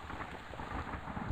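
Rain falling in the video game Lisa: The Painful, a brief, faint, even hiss of steady rainfall with soft low rumbling and no talk.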